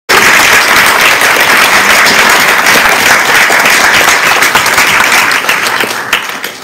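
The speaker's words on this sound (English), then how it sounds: "Please can we show our appreciation for our staff and board members with a round of applause" A large audience at a college student awards ceremony breaks into loud, sustained applause, a dense wash of clapping that holds steady for several seconds before tapering slightly at the close.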